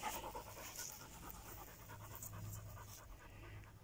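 A tired dog pants steadily and close by after a walk outdoors, quick rhythmic breaths continuing throughout with no one speaking.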